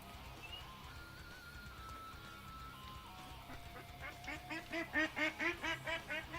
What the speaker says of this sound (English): Shut up, ducks.